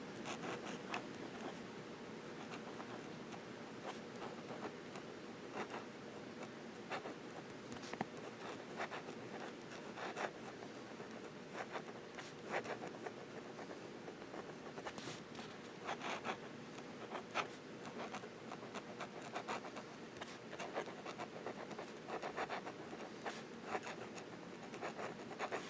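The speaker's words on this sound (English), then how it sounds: "Let's try some reverse writing." A Montblanc Starwalker fountain pen nib writing in reverse on paper, with close, continuous dry scratching made up of rapid short strokes and small ticks, steady and quiet throughout.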